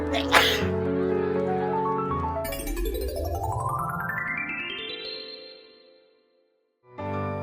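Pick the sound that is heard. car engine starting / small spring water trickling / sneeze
sneeze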